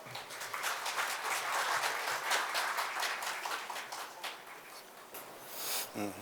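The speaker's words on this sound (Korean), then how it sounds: "참석자 여러분들의 뜨거운 박수 부탁드립니다" An audience at a Korean government AI computing center project briefing claps steadily for several seconds, a dense crackle of many hands, moderately distant and fading slightly toward the end.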